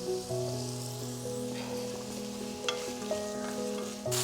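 Vegetables for hotel-style karabath sauté in a pan over a medium flame with a continuous moderate sizzle. Sustained tonal music plays in the background and stirring clicks come now and then.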